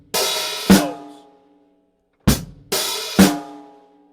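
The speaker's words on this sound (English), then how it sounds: "So here we've got the hi-hat opening on the and of beat 1." A few drum-kit hits of bass drum and snare ring out with pauses between them, each a sharp attack followed by a washy cymbal decay as a hi-hat opens, close and clear.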